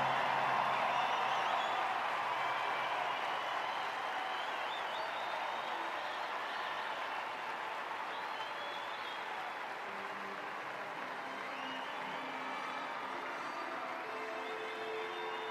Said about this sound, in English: I invite our audience to stand together and in a thunderous round of applause